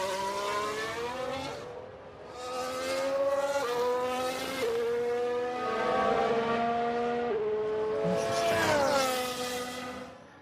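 A Formula 1 car on track in F1 Manager 2022, its high-pitched engine rising and dropping through gear changes, loud and close with onboard whine, repeatedly revving up then easing off for corners.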